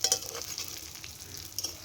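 Fish frying in a pan over a village earthen clay oven, a soft steady sizzle with light crackles and a couple of brighter spits, fairly faint and close.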